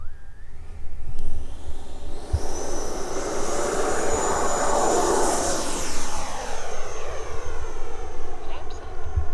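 An FMS 18th Anniversary Edition 90mm Avanti RC EDF jet takes off outdoors with a loud, sustained ducted-fan roar and a high whine that shifts in pitch as it passes and climbs away.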